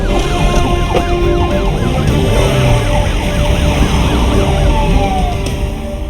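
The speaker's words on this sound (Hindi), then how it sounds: "सर की गाड़ी में सायरन लगाया और शक्तिमान की तरह गया है" A car siren in a Hindi-dubbed action movie wails in a fast, repeating up-and-down pattern, loud and continuous over engine rumble and background score for about six seconds.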